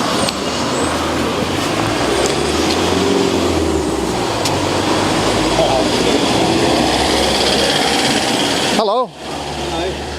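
A car engine runs steadily in an English village, a continuous rumble close by for most of the stretch before a brief interruption near the end, with a voice heard over it.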